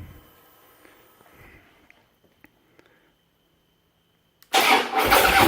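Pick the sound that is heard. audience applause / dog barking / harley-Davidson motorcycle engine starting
harley-Davidson motorcycle engine starting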